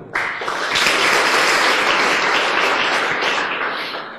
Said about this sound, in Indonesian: Tepuk tangan buat Anda dulu.